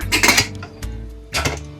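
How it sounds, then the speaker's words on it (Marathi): Metal pressure cooker lid being fitted and closed over mutton cooking with hot water, a cluster of close clanks and rattles, a short pause, then another clunk as it seats. "आणि आता कुकर बंद करायचा"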